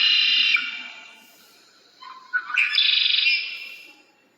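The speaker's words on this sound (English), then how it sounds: "How about a red-winged blackbird?" Red-winged blackbird call: a bright, buzzy trill, then a pause, then a rising burst and a second sustained buzzy trill. The calls are clear and close, with no voices.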